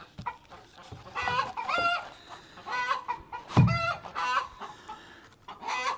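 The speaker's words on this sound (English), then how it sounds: "Or they're talking chicken." Several chickens cluck in short repeated bursts, close and fairly loud, with brief gaps between calls and a louder squawk midway.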